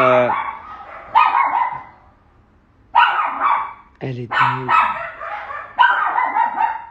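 A small pet dog barks and yips in sharp bursts between pauses, loud and close, with someone talking in French over and between the barks.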